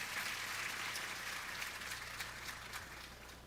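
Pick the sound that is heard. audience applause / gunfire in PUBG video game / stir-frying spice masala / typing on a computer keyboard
audience applause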